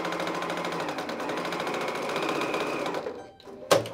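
A sewing machine stitches fabric strips together for a scrap fabric basket, running in a steady fast rhythm for about three seconds before stopping, followed by a brief sharp clack.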